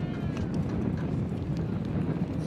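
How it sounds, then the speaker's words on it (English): Polo ponies gallop during a match at the Ylvisaker Memorial Cup, with hoofbeats drumming under a continuous field and crowd ambience throughout the short stretch. "Sapo letting that horse open up, looking to run around Laprida."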